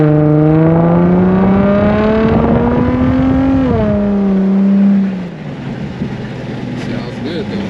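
An Infiniti G35 exhaust fitted with a Vibrant resonator revs with a deep, resonant drone that climbs and dips in pitch, then drops back to a low rumbling idle.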